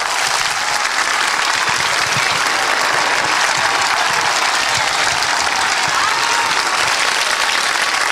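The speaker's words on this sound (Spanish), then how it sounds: "sáquele ese aplauso a Dios" A church congregation applauds for God during a sermon, a dense, sustained roar of many hands clapping at steady loudness throughout, with a faint hint of voices beneath.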